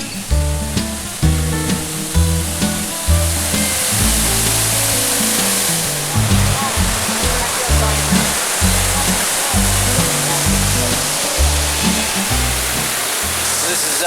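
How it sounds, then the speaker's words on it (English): Elliott Falls, a waterfall flowing north toward the Jardine River, roars close and loud in a constant rushing wash, with low thudding pulses of falling water beneath. "This is Elliott Falls."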